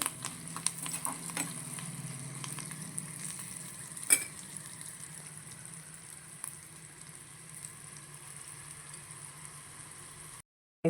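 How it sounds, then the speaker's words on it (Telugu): Asafoetida tempering sizzles in hot oil for curd chutney, a soft continuous crackle with a few light utensil clinks, one sharper tap midway, fading gradually before cutting off. "పెరుగు చట్నీకి మనం తాలింపు దీంట్లో వేసేసుకున్నాం."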